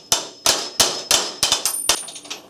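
A hammer strikes a metal punch set on the roll pin of a cam pocket assembly: about eight sharp, ringing metallic clangs in a quick, slightly uneven rhythm, close up and loud.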